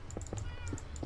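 A cat meowing in the video game Minecraft, with a short sequence of repeated clipped meows over a low background hum, close and fairly loud.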